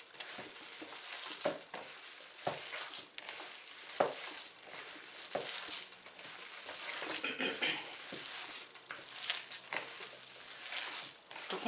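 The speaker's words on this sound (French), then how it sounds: "On va y incorporer le persil. Donc on commence par mélanger." Salt cod fritter batter being mixed with dried parsley in a bowl, wet squelching and scraping strokes repeating irregularly throughout, close and fairly quiet with no talking.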